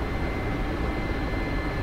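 Helicopter engine and rotor in a flight simulator game, a constant dense roar holding steady in level flight, loud and continuous with no talk.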